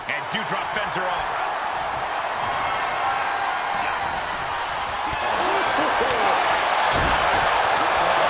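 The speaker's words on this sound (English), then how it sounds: "when you can't hear yourself think because the crowd's so loud" A loud wrestling crowd roars in an arena during a women's match, a constant dense din with thuds and slams from the ring, under a commentator's voice.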